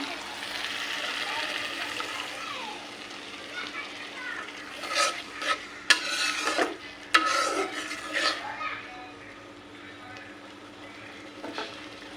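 Water is added to fried whole spices (white pepper, cinnamon, cardamom) in a hot pan: a steady low sizzle, then several sharp hissing bursts and scraping stirs midway.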